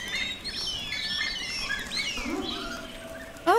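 Many birds chirp and tweet in the video game Scarf, overlapping high calls in a busy forest setting, fairly loud and steady with a brief louder rustle at the very end; no talking.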